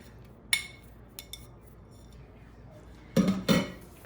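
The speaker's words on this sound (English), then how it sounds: "And then we're gonna add some parm and garlic, and we're gonna mix it all up." Asparagus being tossed with parmesan and garlic in a bowl gives a few sparse clinks and scrapes of utensil against the bowl, with a louder cluster of knocks near the end and quiet gaps between.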